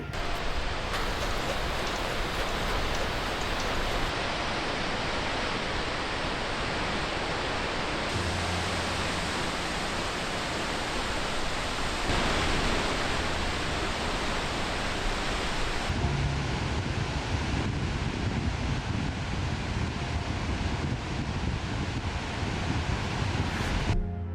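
Skógafoss waterfall in Iceland roars as a loud, continuous broadband wash of falling water and heavy spray, steady throughout with shifting intensity and no voices.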